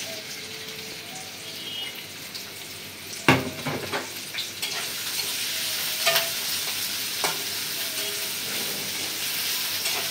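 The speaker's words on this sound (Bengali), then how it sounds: "পেঁয়াজ কাঁচামরিচটা অল্প একটু ভাজা নেই" Onion and green chillies fry in soybean oil in a pan, a loud close sizzle broken by scraping stirs and a sharp clatter of the spatula, with no one talking.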